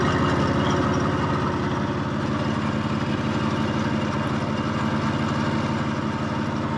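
A 1954 Harley-Davidson KH 750 motorcycle engine running with the choke just shut off, a loud, steady, rapid low-pitched thrum that holds even throughout, close by with no talk.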